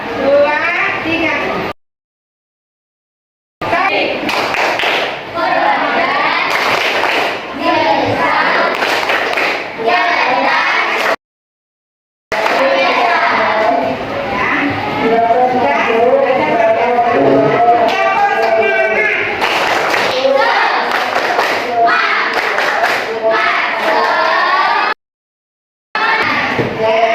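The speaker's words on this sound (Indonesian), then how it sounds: "ayo kita membuat tepuk tangan dan tepuk literasi" A class of children joins a teacher in a classroom clapping routine of rhythmic hand claps mixed with chanted words and shouting voices, in loud bursts broken by short silences.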